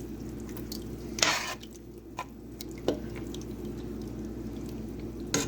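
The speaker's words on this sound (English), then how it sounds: "Just stir this around here." A spoon stirs broth in a pot of purple sweet corn soup, making quiet sloshing swirls with a few sharp clinks against the pot, with no talking.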